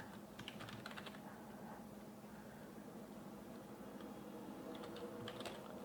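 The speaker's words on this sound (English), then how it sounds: "I don't know what's up with my keyboard" Fast clicking on a computer keyboard during church video system setup work, faint and close, in short bursts of keystrokes separated by brief pauses over a low background hum.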